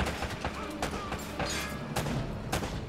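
Rapid gunfire from Uncharted: Drake's Fortune, a string of sharp, loud shots in irregular bursts mixed with thuds and game action, with someone talking over it.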